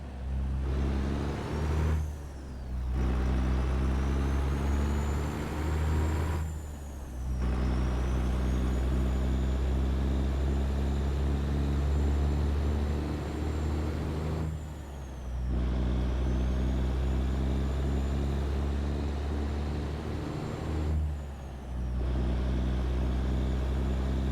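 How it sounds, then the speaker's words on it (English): Old truck engine in American Truck Simulator, a deep steady diesel rumble running loud and close throughout, with brief dips and air-brake hisses at intervals between stretches of idling drone. "So you gotta get used to this truck for a while, which it sounds absolutely amazing."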